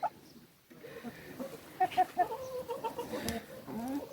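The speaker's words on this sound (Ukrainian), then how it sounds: "Кури не продаються." Chickens cluck in short bursts close by, with a few sharper calls standing out over a low, murky background.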